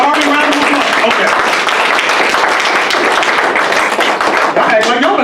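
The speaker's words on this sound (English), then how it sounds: "Give me a round of applause." A religious gathering's audience applauds steadily, dense clapping filling the room at close range with cheers and voices mixed in throughout.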